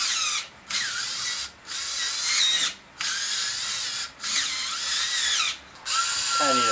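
A drill bores into metal for a fitting on a turbo LS Miata go-kart, running in six loud bursts separated by brief pauses, close up and with no talk.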